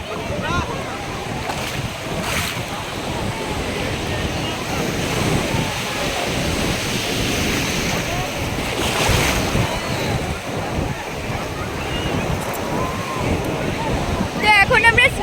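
Sea waves surge and crash around bathers at a beach, a continuous loud wash of surf with periodic swells and gusty wind noise on the microphone.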